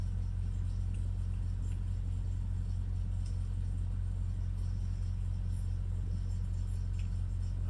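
Heavy trucks idle together in a truck yard during morning pre-trip checks, a steady deep diesel rumble that runs unbroken throughout with no talk.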